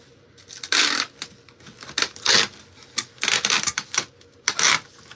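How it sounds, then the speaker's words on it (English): Packing tape is pulled and pressed onto a package in rough, ripping bursts of varying length, up close, with soft handling noises and pauses between pulls. "Alright, so now I'll tape it."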